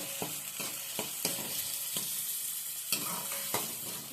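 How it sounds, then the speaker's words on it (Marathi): Chopped onion fries in hot oil for a mushroom masala curry, a steady close sizzle broken by a regular series of spoon scrapes and taps against the pan, with no voices. "हा जो कांदा आहे तो आपल्याला थोडासा असा ट्रान्सपरंट होईपर्यंत फ्राय करून घ्यायचा"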